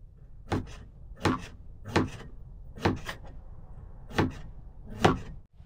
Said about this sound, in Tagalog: maghiwa na tayo ng rekado natin mga kail. Luya at saka sibuyas.